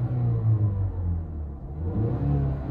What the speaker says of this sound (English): It has a really unique exhaust.